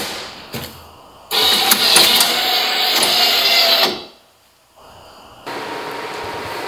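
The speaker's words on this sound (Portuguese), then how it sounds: "elas passam nessa máquina onde elas recebem a pasta de solda, passa nessa máquina que faz a inspeção da solda nas placas" An SMD electronics assembly line machine applying solder paste to circuit boards runs in a loud mechanical burst of whirring and clatter, stops, then resumes, heard close without talk.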